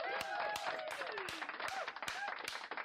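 A small crowd claps and cheers briefly for a comedy talk show guest, sharp irregular hand claps mixed with whoops and voices, fairly close and lively for a few seconds.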